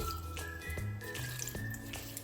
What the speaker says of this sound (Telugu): చింతపండు సరిపడా కొద్ది నీళ్ళు పోసేసి